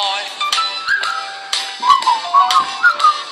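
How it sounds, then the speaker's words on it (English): A person whistles a tune, a clear, close melody of bright sliding notes broken up by short breathy pauses. "You got to do the whistle."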